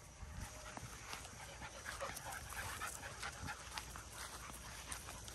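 American Bully dogs, adults and pups out on a woodland trail, pant rapidly and steadily nearby, a soft breathy rhythm running throughout with faint rustling and no speech.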